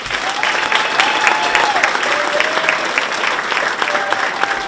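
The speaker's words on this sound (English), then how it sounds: "Another round of applause, please." Sustained audience applause at a school storyteller night, steady dense clapping filling the whole stretch with a few voices and whistle-like tones over it.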